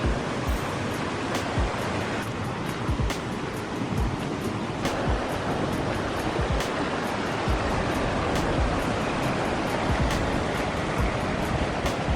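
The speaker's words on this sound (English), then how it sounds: "Plenty of water going down the falls here" Steady roar of rushing water pouring down falls, dense and continuous throughout, with gusts of wind buffeting the microphone.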